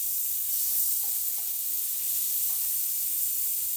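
Tiny scallops sizzling in a very hot skillet for an andouille and scallop stir-fry cooked outdoors on a deck, a loud, constant hiss that runs the whole time, with a couple of brief tonal clinks and no talking.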